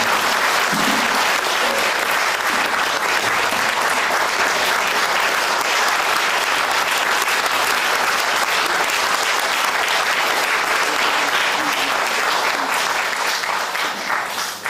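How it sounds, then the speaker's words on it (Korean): Loud, dense and steady applause from an audience gathered for an opening worship service of a national elders' association. It continues unbroken for nearly fifteen seconds, with a brief voice near the start. "자리에 앉으실 때까지 박수 보내주십시오."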